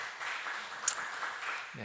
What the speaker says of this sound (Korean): 여러분 큰 박수로 좀 환영해 주시면 감사하겠습니다.